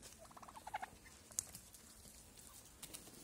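Domestic turkeys on a small farm give a quick burst of rapid gobbling near the start, followed by a few fainter calls over a quiet outdoor background.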